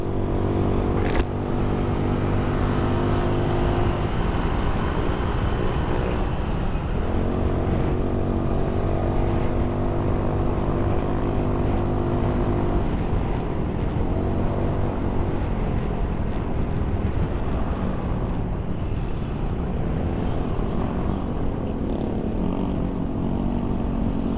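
Honda Beat FI v2 scooter fitted with an MTRT EVO 3 exhaust on a stock engine, riding on the road: a steady, continuous engine drone that stays fairly even and loud throughout, with slight shifts in pitch, no talking.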